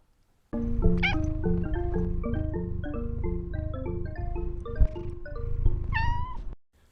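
A cat meows repeatedly in drawn-out, wavering cries, loud and close, with a few higher-pitched yowls toward the end.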